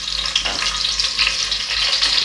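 Curry leaves hit hot oil in a pan while making Kerala sadya-style sambar. A close, steady crackling sizzle runs throughout with a few sharper pops and no talk.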